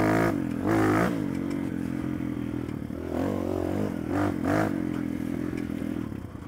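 Barton NXT motorcycle engine, a 250 or 300 with about 19 horsepower, running somewhat cold and slightly choking, gives a loud, close, steady rumble with uneven surges and revs throughout.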